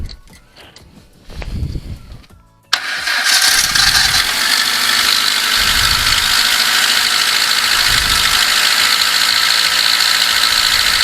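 A Moskvich 2141 car engine cranks with a ratcheting starter, catches abruptly and settles into a loud, steady idle that runs to the end, with a few faint knocks and voices before the start.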